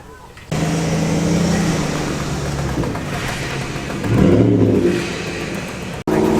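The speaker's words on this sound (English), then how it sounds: "And I can also hear a race bike." A race bike engine revs at a classic car show, a mid-pitched buzz swelling briefly in the middle, heard at a distance amid outdoor crowd murmur and nearby talk.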